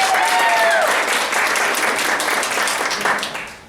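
An audience claps loudly in a live storytelling performance, a dense burst of applause that holds steady and then tapers off toward the end, with a brief whistle near the start.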